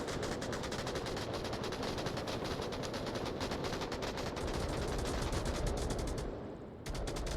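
Dense, rapid gunfire crackles continuously in a competitive video game match, fast bursts of shots at steady loudness that briefly dip near the end before resuming.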